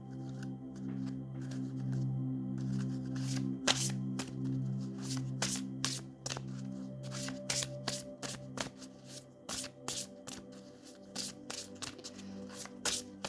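Oracle cards being shuffled close by, a long run of crisp riffling and sliding followed by quick, irregular flicks and taps of the deck as it is cut and handled, over a faint low background hum.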